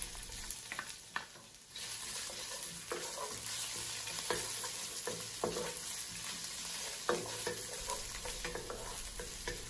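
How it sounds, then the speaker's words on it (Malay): Garlic and finely minced shrimp sizzle in a pan while being stir-fried for spicy popiah filling, a constant close frying hiss broken by frequent spatula scrapes and taps, with no talking. "Kacau bawang putih ni sehingga naik bau. Kemudian masukkan udang yang dah dicincang halus tadi."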